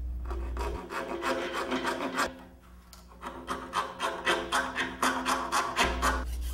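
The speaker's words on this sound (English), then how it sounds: "then file and sand it to the final shape" Wind turbine winglet material being filed and sanded into shape, a close, steady rasping in rapid back-and-forth strokes with a brief pause midway.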